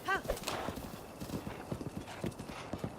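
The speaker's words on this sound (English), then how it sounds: "Not only do I run around in circles, I drive my horse around in circles." Horse hooves clip-clop at a steady galloping rhythm in Zelda: Breath of the Wild, close and continuous for the whole stretch, with a brief whinny-like call at the start and game sounds layered over it.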